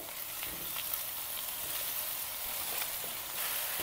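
Water spinach stir-fried with pieces of fried tempeh in a pan over high heat, giving a steady, close sizzle and frying hiss with faint stirring scrapes throughout, no voices.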